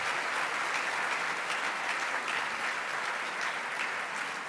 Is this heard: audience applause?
yes